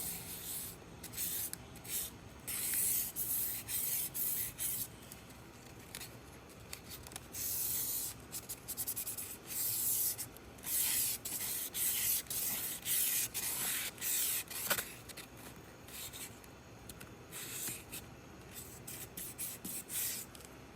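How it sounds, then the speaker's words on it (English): Hand sanding of cured epoxy on a charcuterie board, a close dry scratchy rasp in repeated back-and-forth strokes with brief pauses between passes. "since it is completely cured, I'm gonna go in and sand just a little bit."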